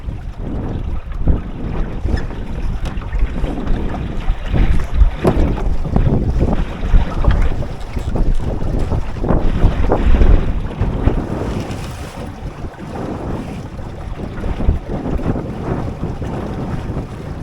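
A sailboat under motor pushes through open water in wind, with loud gusty rumbling and buffeting across the microphone, mixed with the wash of water along the hull.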